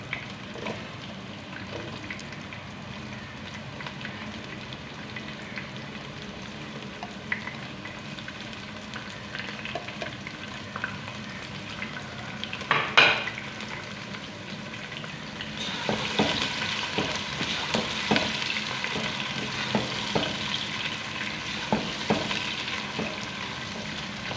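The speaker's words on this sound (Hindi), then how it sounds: "अब प्याज डालते हैं।" Onions dropped into hot oil with sizzling cumin in a pan for aloo matar rice; a sharp clatter midway, then a louder, steady frying hiss with crackles that continues to the end.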